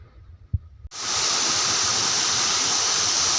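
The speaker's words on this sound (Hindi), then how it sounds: "तोड़े देखंतु पानी केमिति पडुछि" River water pours steadily beneath a bridge, a loud, continuous broadband rush that starts abruptly after a brief quiet moment with a faint thump, then holds constant and close.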